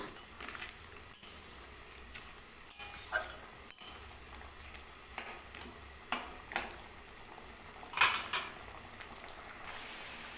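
Papad pieces and potato curry stirred in a pot on a home stove, with scattered scrapes and clinks of a spoon against the pot, some sharp and close, over a low cooking background.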